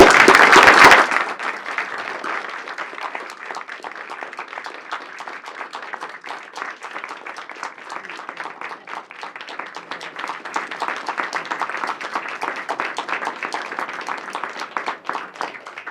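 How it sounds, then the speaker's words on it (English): A city council meeting audience applauds relief workers after a hurricane, a steady, dense wash of many hands clapping that continues for the whole stretch after a brief loud burst at the start, with little talk. "Let's give them a round of applause."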